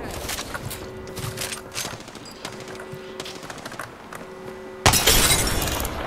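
Shield shattering in a shooter video game: a sudden loud burst of bright breaking, crackling noise near the end, following a stretch of rapid gunfire-like bursts and game effects.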